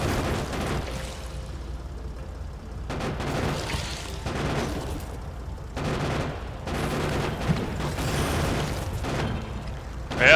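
Depleted uranium ammo turrets firing in Factorio, a steady distant rattle of gunfire with muffled booms and mechanical clatter, continuing in overlapping waves without speech.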